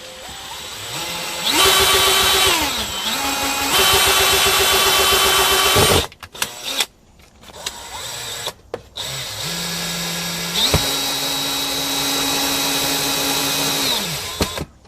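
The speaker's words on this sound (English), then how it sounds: "Now I'm going to just put one little hole in here and put a screw in to hold this piece of PVC in place." A power drill bores a small hole and drives a screw into PVC pipe during an indoor split-system air conditioner installation, its whine running loud and steady in several bursts that rise and fall in pitch, with short pauses between runs.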